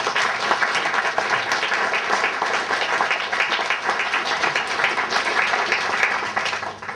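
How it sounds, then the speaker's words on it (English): Wedding guests at a Hindu wedding reception break into steady applause, a dense wash of many hands clapping at fairly constant volume for several seconds. "Yeah, round of applause."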